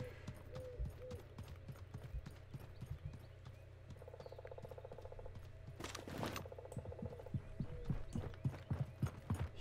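Horse hooves clip-clop in a steady galloping rhythm in the video game Realm Royale, fairly quiet and continuous, with a brief mechanical whir partway through.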